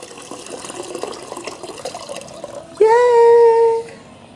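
Tap or shower water in Ghana suddenly bursts on and runs loudly and steadily for about a second before stopping, following a stretch of quieter background noise.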